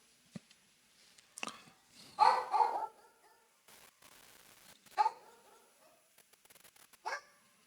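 Dogs barking at the neighbors let out irregular barks and yips, a louder cluster early on and then single barks spread out, with no talking.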